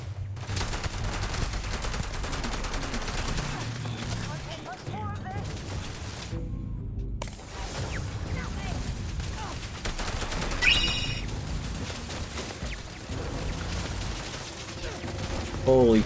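Robotic turrets firing guns in the sci-fi space game Starfield, with dense, continuous rapid gunfire and booming impacts sustained throughout, loud and close, with a brief lull partway through and a player's voice speaking over it.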